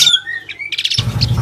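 A caged songbird for sale at a bird shop chirps in bright, rapid tweets and whistles, close and lively, with a burst of low background rumble partway through.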